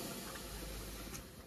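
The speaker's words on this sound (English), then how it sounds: "I'm just gonna steam up it so it knows where it's meant to lay" A steam iron hisses in a steady, quiet rush as it steams a small piece of fabric, a soft continuous spray sound with no speech.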